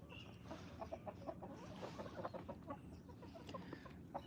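A fighting rooster clucking in a rhythmic series of short, moderately close calls over faint farmyard background noise.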